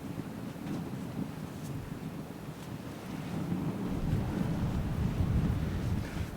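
Strong wind on a beach in Saudi Arabia buffets and roars continuously, gusting louder toward the end, with a low rumble like surf or wind hitting the microphone.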